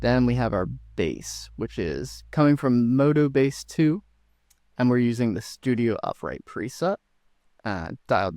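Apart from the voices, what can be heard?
No distinct noise like a dog, phone or traffic.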